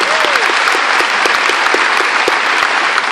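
Loud, close applause from a high school gathering celebrating two Kentucky All-Star basketball players, a thick continuous wall of clapping with a few sharp, distinct claps popping out near the front.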